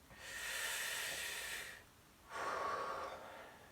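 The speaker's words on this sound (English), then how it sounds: "Deep breath in again." Two long, deep breaths hiss close to the microphone, the first inhale followed by a pause and then a second breath, with no talk.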